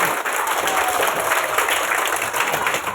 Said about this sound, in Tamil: தூய்மை பணியாளர்களுக்கு சிறப்பான முறையில் நல்லா பலமான ஒரு கைத்தட்டல் கொடுத்துருங்க